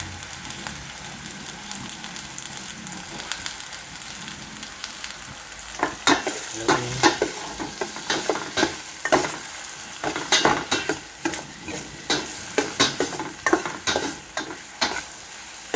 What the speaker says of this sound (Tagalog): So nalagay ko na yung corned beef.